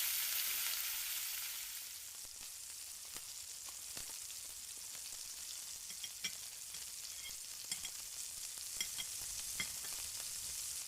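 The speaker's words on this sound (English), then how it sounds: "Now drop in your mutton, give it a good mix, and watch it change color." Mutton for korma fries in a pot as it is stirred, a strong sizzle that eases after a couple of seconds into steady crackling with intermittent scrapes and light knocks; no one talks.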